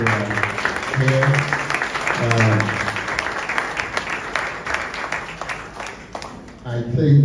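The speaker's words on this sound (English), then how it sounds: "may we give them a round of applause" Applause from mourners at a memorial service patters on at moderate volume, with a voice speaking over it at times.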